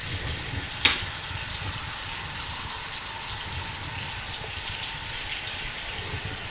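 Tap water runs steadily into a bathroom sink with its pop-up drain put back in, testing a freshly unclogged slow drain; a constant near hiss and gush with one brief clink early on.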